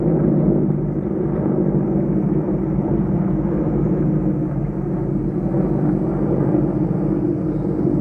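Three black helicopters rumble overhead as a steady, dense low drone that holds constant throughout, with no voices.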